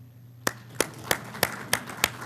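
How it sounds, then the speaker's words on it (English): At a school safety and security summit, a sparse audience responds to a call for applause: after a near-silent start, about six distinct, spaced claps ring out at a steady pace. "Can I ask for a round of applause?"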